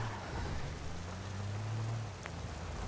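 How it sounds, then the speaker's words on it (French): Rain in the video game GTA Online, a continuous broad hiss of falling rain with a low rumbling undertone, steady and alone. "La pluie."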